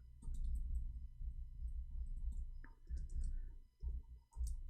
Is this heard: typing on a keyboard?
yes